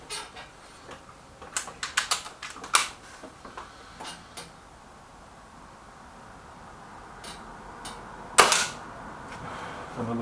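Pellets from a Kral NP500 air rifle strike a target, heard as a scatter of sharp cracks and ticks early on, then a gap and one louder snap near the end, all fairly close with no talking.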